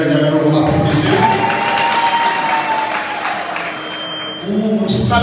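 Crowd applause at a UFDG political rally, dense sustained clapping from many people that stays loud throughout, a voice over a loudspeaker heard faintly above it.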